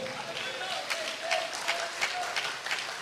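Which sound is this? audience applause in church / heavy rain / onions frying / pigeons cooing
audience applause in church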